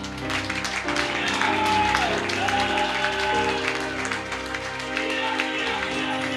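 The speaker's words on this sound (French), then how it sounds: "Mais acclame bien Jésus." A church congregation breaks into sustained applause acclaiming Jesus, dense steady clapping mixed with crowd voices and music running throughout.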